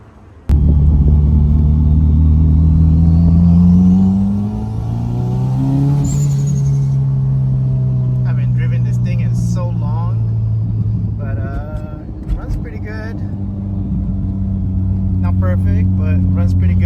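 A car engine with a straight downpipe exhaust idles with a deep, loud rumble, revving briefly and settling back, while someone talks nearby.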